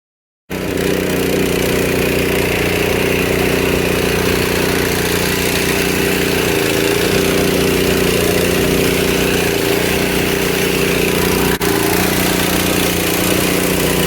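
A Predator 212 small gasoline engine runs steadily at idle, a constant droning hum with a low buzzing tone, close and loud, with no voices.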